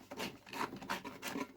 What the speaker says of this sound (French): Si je vous la dévisse.